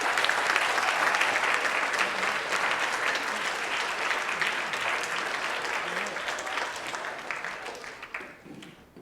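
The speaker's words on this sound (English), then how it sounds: "Give him a round of applause for Jake Naughton." An audience at an 8th grade speech event applauds a student speaker with steady, dense clapping that holds for several seconds, then gradually thins and fades near the end.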